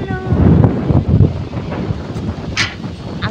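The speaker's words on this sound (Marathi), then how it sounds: "आपले वारा सुटलेलं आहेच," Wind blows hard across an outdoor village setting in the early morning and buffets the microphone with loud rumbling gusts that ease off after the first second or so.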